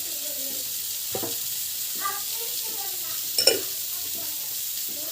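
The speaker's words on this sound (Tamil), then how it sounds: "ஸோ இந்த பக்கம் வந்து கடாய் வச்சுருக்கேன். ஸோ இப்போ வந்து ஆயில் வந்து போடுங்க. ஆயில் வந்து நல்லா காயணும்." Oil heating in a kadai on the stove gives a soft, steady sizzle, with faint spoon clinks and scrapes scattered over it and a brief sharper knock near the end.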